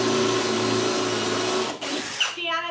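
A power driver whirs steadily while driving screws into holes in a salvage table in a workshop, then the motor stops and a voice speaks over lingering machine hum.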